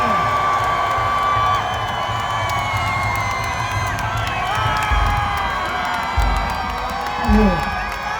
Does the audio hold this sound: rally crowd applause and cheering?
yes